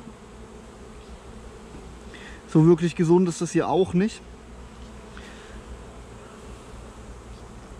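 Honeybees buzz steadily around an opened colony with capped humped brood while a frame is handled, a low continuous drone beneath someone speaking briefly in the middle.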